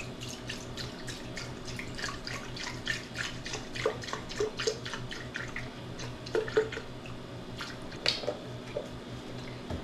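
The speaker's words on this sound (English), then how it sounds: "I've got my Almond Breeze almond milk. I want one and a half cups." Almond Breeze almond milk is poured into a measuring cup, a quiet continuous liquid trickle with soft splashing and gurgling, close and fairly faint.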